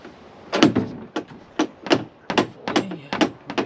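A door opens and closes at close range, giving a quick series of clicks, knocks and dull thunks with short pauses between them.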